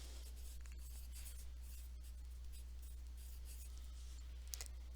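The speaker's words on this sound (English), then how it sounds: "I'm writing in my agenda too" A pen writes in a paper agenda, giving faint scratchy strokes in short bursts over a steady low hum, quiet and close, with no talking.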